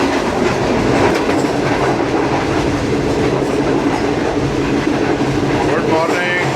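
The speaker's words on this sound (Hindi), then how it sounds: "ट्रेन है हमारी पाक बिजनेस एक्सप्रेस" Pak Business Express passenger train running between Lahore and Karachi, heard from inside an AC Standard carriage: a steady, loud broadband rumble with faint clickety-clack of wheels on rails and a brief squeal near the end.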